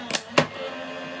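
Two sharp mechanical clunks are followed by a grinding hum, as a die-cutting machine presses cream card close by.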